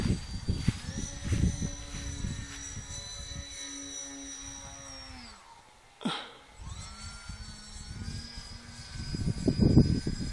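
Kraken model airplane flying under half throttle, its propeller engine whining steadily and shifting pitch as it passes, with one brief close swoop, gusty wind buffeting throughout.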